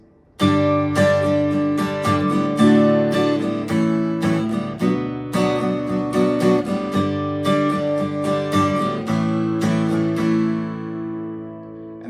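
Strummed guitar chords ring out in a steady progression, loud and full, with sharp attacks on each change and lingering sustain, no voices.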